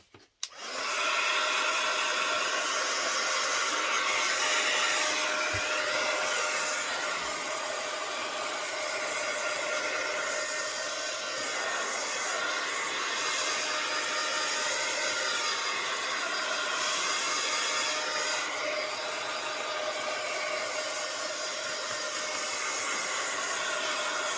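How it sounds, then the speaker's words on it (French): A heat gun drying acrylic paint on a journal cover roars steadily and loudly, a continuous blowing hiss that starts abruptly and holds for the whole stretch with slight wavering. "Faites bien un balayage avec le gun parce que ça brûle vite"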